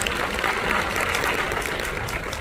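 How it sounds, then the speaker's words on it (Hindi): Dense, loud applause from a large audience at a business event, a steady roar of many hands clapping throughout with no speech. "डॉक्टर अजय शर्मा सर के लिए एकदम जोरदार ताली होनी चाहिए"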